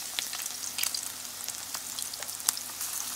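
Crab cakes sizzle and crackle in a hot pan, with steady spitting pops and occasional louder crackles, close and without talk.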